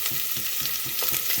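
Potatoes, chickpeas, ginger and curry leaves fry in a pan with a steady, close hiss and crackle, broken by soft stirring scrapes at an even rhythm.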